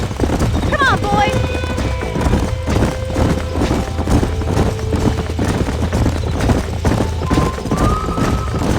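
Horses in the Red Dead Redemption video game trot and gallop with steady clip-clopping hooves, and several neighs and whinnies come early on. Voices talk over the hoofbeats throughout.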